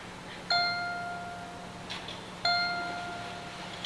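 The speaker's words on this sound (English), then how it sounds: "church bells." Church bells ring during a 1988 high school stage performance of Shenandoah: two clear, resonant strikes about two seconds apart, each with a long ringing decay, plus a fainter chime between them over a quiet hall hum.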